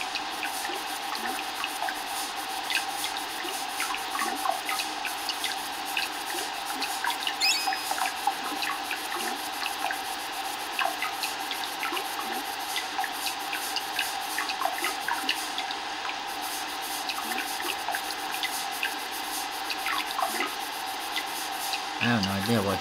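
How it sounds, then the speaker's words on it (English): Water in the Secret of Evermore video game, a continuous rushing, splashing flow like running water that stays steady throughout, with a voice talking over it at times. "Some water there."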